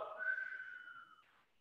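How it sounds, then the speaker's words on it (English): A person whistles softly during a home weights workout, one faint sustained tone that wavers slightly, then fades out alone, with no talking. "I just whistled, and I've never whistled before."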